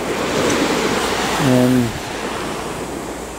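Ocean waves at half tide wash in a steady broad rush that swells briefly and then eases, with a short voice and some wind noise.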